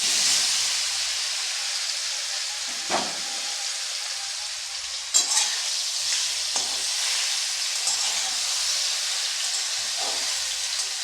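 Chalta (elephant apple) pieces fry in a pan for a pickle with cardamom, a steady loud hiss running throughout, broken by a few sharper crackles and stirring scrapes.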